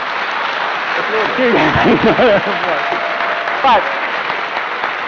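Audience applause breaking out during a public debate on God, a broad wash of clapping that swells and fades over several seconds while a voice talks over it.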